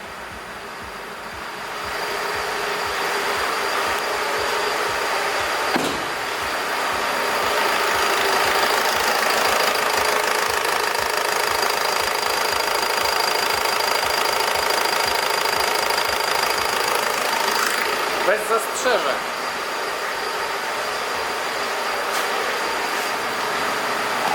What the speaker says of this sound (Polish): Dodam gazu. Chodzi. Wkręca się na obroty.